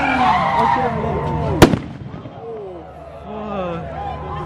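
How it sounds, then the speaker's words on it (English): A firework goes off at a crowded car meet: one sharp, loud bang rings out amid engine noise and excited talk, followed by a busy murmur of voices. "Oh, they threw a firework."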